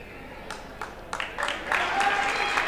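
Applause rises in a basketball gym during a girls' game between Pierre T.F. Riggs Governors and Bismarck Demons as a player comes to the bench, starting as scattered claps and swelling to steady clapping.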